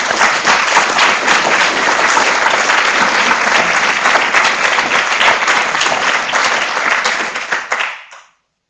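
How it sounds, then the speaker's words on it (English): Hearty audience applause at an awards ceremony, a dense, steady wash of many hands clapping close and loud for about eight seconds before it stops abruptly. "there was hearty applause at this point"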